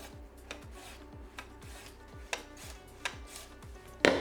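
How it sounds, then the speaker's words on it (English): Celery sliced thinly on a mandolin slicer, a regular series of crisp scraping strokes, about one every half second, close and fairly quiet, ending in a louder clack. "You grab your mandolin, and we find the thinnest setting possible"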